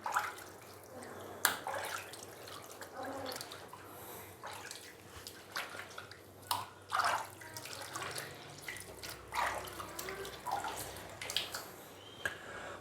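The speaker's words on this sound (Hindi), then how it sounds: "ये देखें इस तरीके से हमने इसको हाथ की मदद से हल्का हल्का सा मसल लेना है।" Ojhri (goat tripe) is squeezed and rubbed by hand under running water, giving wet squelches, splashes and trickling drips in an irregular rhythm, close and moderately loud with no talk.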